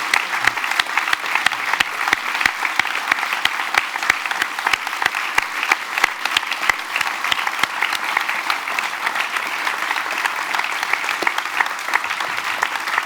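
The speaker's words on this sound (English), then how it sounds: "Let's give Tim a round of applause before we open it up." Audience applause after a talk and interview session, many hands clapping loudly and evenly for several seconds with no talk over it.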